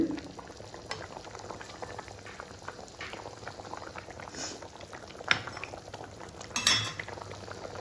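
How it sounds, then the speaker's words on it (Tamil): A pot of fish curry bubbles and simmers steadily, with occasional clinks of a utensil against metal, close by and without talking. "குழம்பு நல்லா கொதிக்குது."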